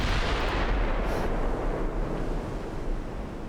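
Battleship main guns firing in a naval video game, a heavy booming rumble that rolls on with low, broad noise and slowly fades, with no talking.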